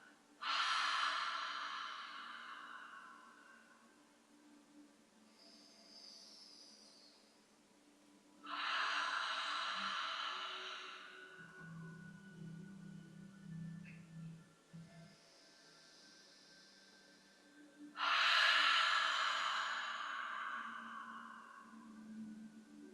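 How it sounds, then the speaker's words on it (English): Long, forceful breaths exhaled through an open mouth with a breathy HA sound during yoga, three loud exhales spaced several seconds apart with quieter breathing between. "we're going to open the mouth on the exhale, making an HA sound"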